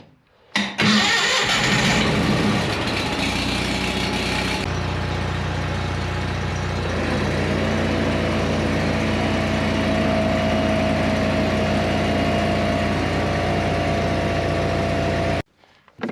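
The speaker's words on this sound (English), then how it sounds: "I'll fire up the air compressor to air up the tire on the wheelbarrow" An air compressor for inflating a wheelbarrow tire starts with a loud burst and then runs with a steady, close motor drone that continues at an even level before cutting off.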